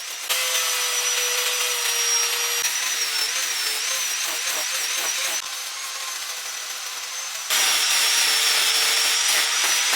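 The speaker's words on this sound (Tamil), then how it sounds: "இப்போ நான் கிரைண்டிங் மிஷினில் ஃப்ளாட் டிஸ்க் வந்து போட்டிருக்கேன்." An angle grinder fitted with a flat disc grinds a metal propeller for a homemade chainless cycle, giving a loud, steady, high-pitched whine that shifts in pitch and load as the disc presses against the workpiece.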